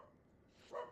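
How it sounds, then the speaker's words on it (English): A dog barks once, faint and brief, in a Final Fantasy video game, a single soft yip standing alone near the end of a quiet moment. "What do you think you're barking at, little one?"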